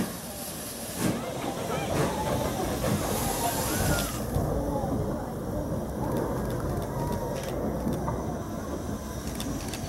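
A Black Five steam locomotive, no. 45231, rumbles and hisses steadily nearby as it runs round its train, with a constant broadband roar and occasional faint squeals throughout.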